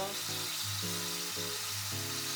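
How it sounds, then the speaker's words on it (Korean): Doenjang soybean paste stir-frying with meat in a pot for doenjang jjigae, a steady close sizzle running under low tonal hum throughout, with no talking. "이번에는 된장을 볶을 거예요. 고기랑 같이 볶을 거예요."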